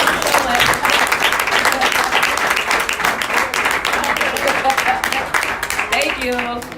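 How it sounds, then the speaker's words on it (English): A live audience at a small business training seminar applauds loudly and steadily for the full length, dense clapping with crowd noise, tapering only slightly at the end. "another big round of applause for her closing us out"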